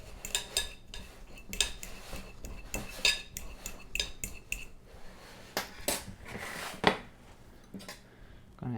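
Cooked potatoes being mashed for cinnamon potato candies, metal utensils clinking and scraping against a bowl in irregular close bursts with several sharper knocks, no talking.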